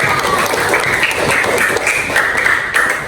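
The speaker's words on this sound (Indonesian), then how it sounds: "Tepuk tangan dulu dong buat mereka." Elementary schoolchildren in an Indonesian-language class clap for their classmates, a dense, steady patter of many hands close by that holds at an even loudness for about three seconds with no talking.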